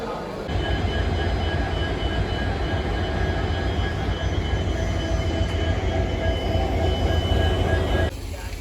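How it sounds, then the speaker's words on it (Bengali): Agartala–Silchar Express train at a station platform at Badarpur Junction, a steady loud rumble and hum of the rail carriages holding for about eight seconds before easing off. "আগরতলা শিলচর এক্সপ্রেস ট্রেন বর্তমানে প্ল্যাটফর্মও আছে"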